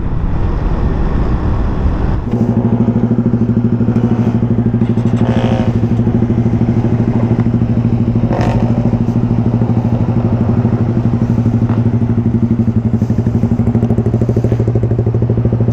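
A motorcycle with an open exhaust pipe and no plate idles close by, a loud, steady low rumble with a rapid throbbing beat that kicks in after a brief quieter start, with faint clatter over it.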